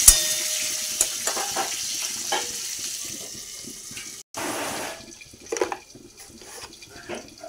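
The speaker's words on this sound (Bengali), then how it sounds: "এদিকে আমি আলুটাকে সুন্দর করে ভেজে নিচ্ছি" Potatoes fry in a pan with a soft, fairly faint sizzle, broken by a few stirring scrapes and clinks that fade in and out.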